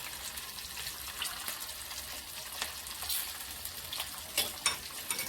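Peanuts frying in a pan with steady, soft crackling sizzle and occasional brighter pops, fairly quiet and continuous with no talking.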